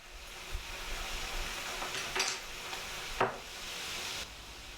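Zucchini and mushroom stirred in a pan give a steady, faint sizzle, with a few soft scrapes of a utensil against the pan partway through.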